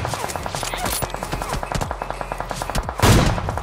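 Rapid bursts of automatic gunfire from the mobile battle royale game BGMI, in a top Conqueror lobby, crackling in quick regular shots with a heavier blast near the end.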